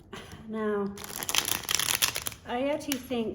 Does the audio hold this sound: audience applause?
no